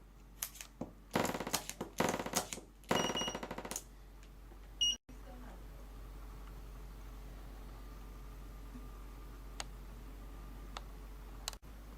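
PHT 1800 portable hardness tester firing rapid bursts of test impacts, several short clusters of fast mechanical clicking close by, followed by a quiet hum with a few isolated ticks.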